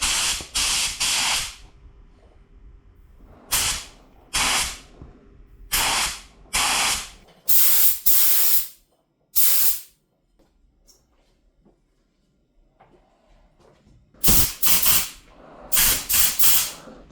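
A spray gun at 2 bars pressure fires on a BMW G31 estate car in a series of sharp, loud hissing bursts, each lasting a second or two, separated by short silences.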